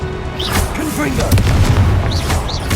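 A fiery Confringo blast spell bursts in Hogwarts Legacy gameplay, a loud booming explosion amid busy game effects and overlapping spell voices.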